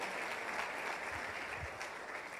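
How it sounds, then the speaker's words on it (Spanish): A church congregation claps in steady, sustained applause for a nurse, a dense even wash of hand claps with no voices over it. "Un aplauso acá para la enfermera, espectacular, muy bien."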